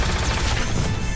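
Iron Man's proton cannon in Marvel vs Capcom Infinite fires as a dense, loud, continuous blast of crackling noise that fills the whole short moment.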